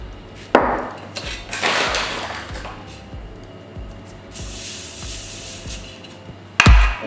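A glass bottle rolling pastry dough across a worktop, giving repeated soft rumbling strokes with light knocks, then a sharp louder clatter near the end.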